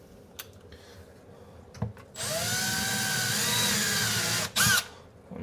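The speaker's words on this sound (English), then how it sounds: "You're just drilling a nice pilot hole so it goes much easier in." A cordless power drill boring small pilot holes into wood while fitting an under-sink pull-out waste bin, with a couple of short taps, then a sustained whirring run and a brief second burst, close and loud.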